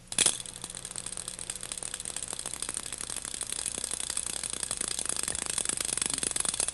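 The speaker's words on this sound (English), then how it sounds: "We think we heard a clicking sound." Rapid clicking from a spinning gadget, a fast steady rattle of many tiny clicks that starts abruptly and runs evenly throughout.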